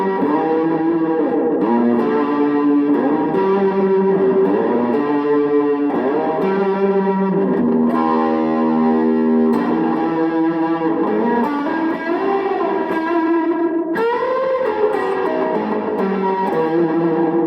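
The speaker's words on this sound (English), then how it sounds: "Now I've got a Don't Panic, Footloose Don't Panic fuzz box here." An electric guitar, likely a DiPinto Mach 4, played through a Footloose Don't Panic fuzz box and a Univox EC-80 cartridge tape echo rings out loud, thick and distorted, its sustained chords and bends trailing repeating echoes, with no talking.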